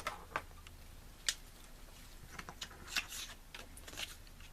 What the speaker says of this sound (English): taking a pair of scissors